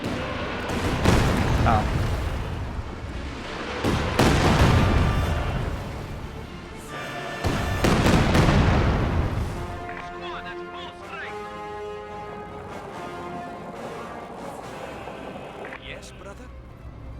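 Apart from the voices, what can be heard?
Katyusha rocket artillery firing in a WWII strategy video game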